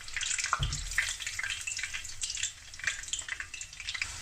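Breaded tofu fries sizzle and crackle steadily in hot oil, a dense close frying hiss with a soft thump as pieces drop in near the start.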